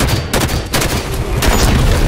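Battle rifle gunfire in the shooter game Halo 5, a loud, dense string of shots and booms layered over steady battle noise through the whole stretch.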